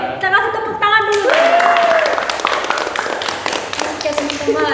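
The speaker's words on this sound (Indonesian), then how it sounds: "kita kasih tepuk tangan dulu" Clapping from a small group in an Indonesian counseling competition session, breaking out after a few spoken words and lasting a few seconds, with voices chattering over and around it.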